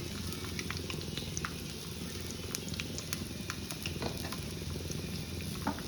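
Dried red chillies and asafoetida splutter in hot oil, a steady dense crackle with scattered sharp pops running throughout at close range, no voices.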